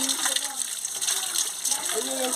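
Cut magur catfish pieces rinsed under running water, a steady close gush and splash with faint voices in the background.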